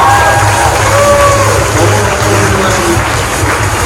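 An audience at a hanbok and Taegukgi fashion show cheers and applauds the models: a loud, sustained crowd roar with whoops and shouts over continuous clapping, filling the room from start to finish.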